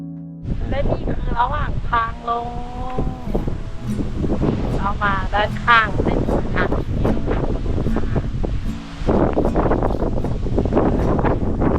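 Strong wind blows on a mountain trail at Khao Chang Phueak, a steady loud rush buffeting the microphone and continuing under close talk almost throughout.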